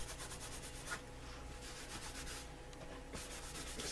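A cloth buffs a leather holster in quiet, repeated rubbing strokes, a soft, even swishing friction with a few brief pauses between passes.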